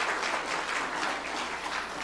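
A church congregation applauds together in a steady, dense wash of clapping that fills the whole moment at an even level, with no voices on top.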